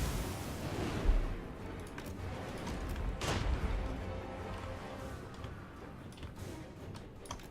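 Faint, distant massed musket volleys crackle across a Total War: Warhammer 2 Skaven battlefield, with one broader blast near the middle standing out above a low, muffled rumble.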